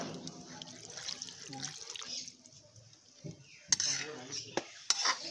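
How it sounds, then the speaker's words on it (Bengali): Water is poured into a pot of cooking chicken curry, a bright splashing and sizzling wash over clinking pots and utensils. A few louder knocks come near the end. "এখন জল দিয়ে দিচ্ছি।"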